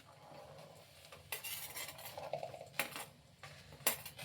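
Cut okra tipped into a frying pan: quiet at first, then bursts of loud sizzling and clattering scrapes of a spatula against metal as the pieces land and are moved around, close by, no speech.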